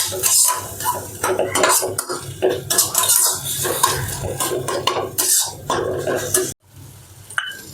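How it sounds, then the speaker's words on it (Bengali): Onion with ginger, garlic and chili paste is stir-fried in a pan, with loud, busy scraping and clattering of a spatula against the metal over a light sizzle, ending in a short pause and a quieter stretch. "দিয়ে এবার ভালো করে এটা কষে নিতে হবে।"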